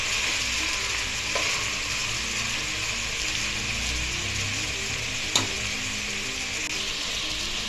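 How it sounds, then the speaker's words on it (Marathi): Spices for veg pulao frying in a pressure cooker, a steady close sizzle running throughout, with one brief utensil tap partway through. "आता आपण हे मसाले टाकून घेणार आहोत। सर्व मसाले आपल्याला अगदी 5 ते 7 मिनिट व्यवस्थित वापरू द्यायचं आहे।"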